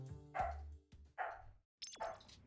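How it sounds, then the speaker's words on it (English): A dog barks three times close by, each a short, loud bark with a brief pause between them, over faint game sounds and with no speech. "I don't know why Lux is barking."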